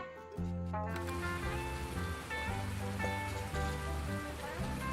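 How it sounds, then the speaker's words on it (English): Steady rain from the Farming Simulator video game falls continuously as a soft wash of patter under a background music bed, with no talking. "I didn't realize the rain was that loud."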